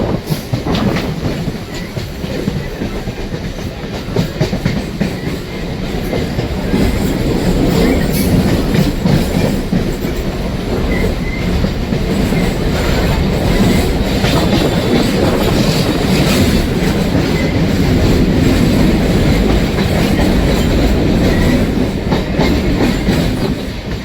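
A Chennai MRTS suburban train rumbles steadily along the tracks with rhythmic clatter and occasional squealing wheels, loud and continuous with no voices.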